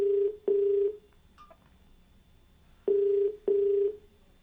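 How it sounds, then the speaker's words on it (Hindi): A telephone call to a phone-in show caller sounds as a ringback tone, two short pairs of steady beeps separated by a pause, clear and fairly loud with no talk. "तो दोस्तों, इसी के साथ फ़ोन लगाते हैं अपने अगले कॉलर को"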